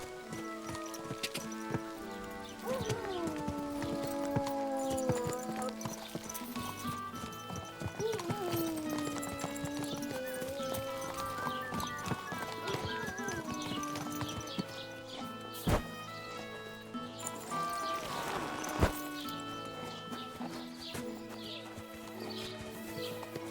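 Horse hooves clip-clop steadily while riding in Kingdom Come Deliverance 2, under a continuous music and ambience bed, with a couple of sharp louder hits near the end.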